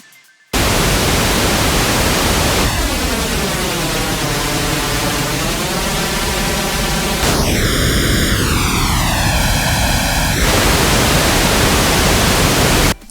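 Comb filter flanger-like effect built in Bitwig, applied to dense noise that sweeps in pitched, sliding resonant tones, first lower and then brighter, over a continuous loud hiss.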